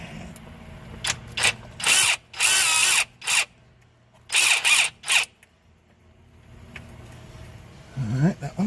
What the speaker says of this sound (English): let's see if we can pull a few of these bolts